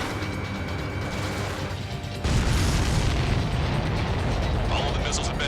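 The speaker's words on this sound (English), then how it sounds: "All of the missiles have been destroyed." Missiles exploding in the video game Ace Combat 7: a steady jet-engine drone suddenly jumps into a louder, heavy rumbling blast that sustains to the end, with game voice chatter mixed in.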